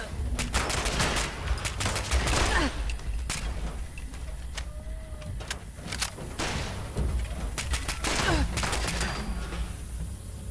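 Gunfire in Fallout 76, with repeated sharp bursts of shots in quick clusters and rapid volleys spread across the scene, loud and close over a rumbling game background.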